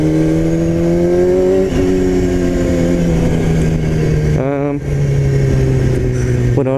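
A motorcycle engine hums steadily while riding, its pitch sliding slowly downward, then a quick rev climbs and settles, loud and close with constant wind and road noise.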